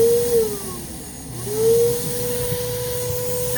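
A spray tan gun turbine runs inside a homemade quiet box, a steady airy whine whose pitch dips and climbs back before settling into an even hum, near and alone.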